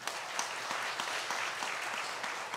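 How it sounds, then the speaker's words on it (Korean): A church congregation claps for two children at an infant baptism during a Sunday service, a soft but sustained patter of many hands with a few sharper claps standing out. "박수 한번 하겠어요"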